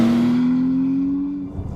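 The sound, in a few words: sports car accelerating in Sport Plus mode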